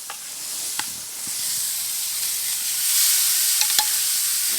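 Scallops searing on the hot grate of a Komodo Kamado grill give off a steady broadband sizzle that swells slightly, with a few soft clicks and taps as they are set down close by.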